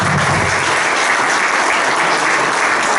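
A conference audience at a Maximixe event on the Peruvian economy applauds loudly and steadily, a dense, even wash of clapping that fills the whole stretch without pause.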